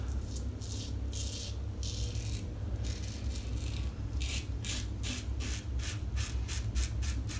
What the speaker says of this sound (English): I'm using this razor right now